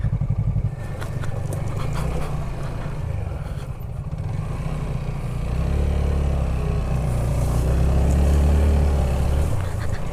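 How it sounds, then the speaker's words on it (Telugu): A small, lightweight TVS Apache motorcycle rides off-road over rough ground, its engine droning steadily and then swelling louder as it pulls harder, with rattling and clatter from the terrain and no voices. "ఇంత చిన్న బండి కూడా ఎటు రోడ్ ఉన్నా కానీ అటు వెళ్ళిపోతుంది"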